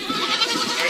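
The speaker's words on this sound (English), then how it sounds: "Room full of screaming goats." Goats scream in a room, a close, loud, continuous cluster of overlapping wavering bleats with no pause.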